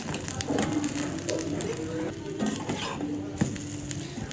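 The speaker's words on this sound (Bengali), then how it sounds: "এই যে রুটি দিয়ে খাওয়ার জন্য এখন ডিম ভাজি করতেছি।" An egg fries in a pan for a breakfast of fried egg and paratha, with a close, steady sizzle and occasional scrapes and taps of a utensil against the pan.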